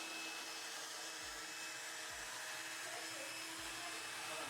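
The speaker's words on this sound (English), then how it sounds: "The CNC would go all the way to the upper left-hand corner, trying to get to the material" A CNC router strains as it drives to the upper left corner of its cutting area, giving a steady, loud whirring drone with a few low thumps and knocks rising from underneath.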